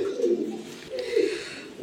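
Pigeons at a pigeon farm, an egg-sitting pair among them, give two soft, close cooing phrases a second apart, with low throaty rolls over a quiet background.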